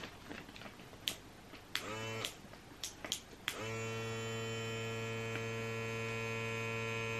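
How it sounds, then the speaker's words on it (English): Small vacuum attachment switching on after a few clicks and knocks, then running as a steady loud motor hum and whine, close by with no talk. "So this is a little vacuum thing"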